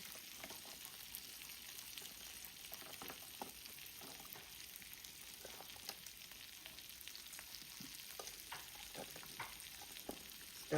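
A seafood boil pot with snow crab legs being stirred, giving a faint, steady simmering hiss with soft, scattered knocks and scrapes throughout.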